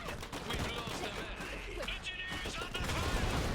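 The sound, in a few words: gunfire in the video game Iron Harvest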